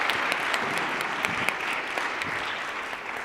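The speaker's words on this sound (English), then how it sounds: "let's give one final round of applause for all of our candidates who did a wonderful job" Applause for student senate election debate candidates at a college, a steady wash of many hands clapping at moderate volume, heard from within the room without voices over it.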